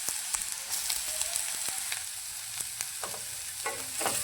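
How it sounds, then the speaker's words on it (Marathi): Ginger frying with onions in hot oil crackles and sizzles steadily, with repeated sharp stirring scrapes of a spoon against the pan, close and alone without any voices. "अद्रक पण एकदम चांगलं फ्राय करून घेऊया।"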